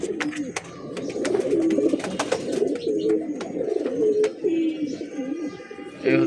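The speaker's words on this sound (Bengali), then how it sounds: "এক পেয়ার বাঘা কবুতর" A pair of Bagha pigeons coo in a steady series of soft, rolling calls up close, with faint clicks and shuffling around them.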